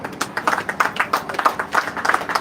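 Audience at a Nigerian community gathering claps in a steady, rhythmic pattern, crisp individual claps repeating evenly throughout without speech.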